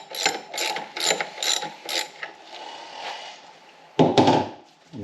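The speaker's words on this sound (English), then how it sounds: "So first you loosen the 12mm nut" A ratchet clicks in quick bursts while loosening a 12mm lock nut on a Subaru EJ25 engine in a Forester, with a few louder rapid clicking runs and a final thunk, close up and without speech.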